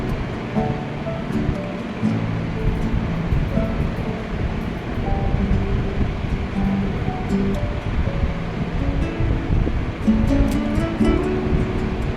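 Sea waves roll onto the beach at Digha in the afternoon, a steady, loud, close wash of surf mixed with wind buffeting the microphone. A few faint people's voices come from the distance.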